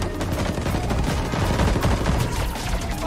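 Gunfire in a movie shootout, a dense continuous barrage of loud rapid shots, close and unbroken for the whole stretch.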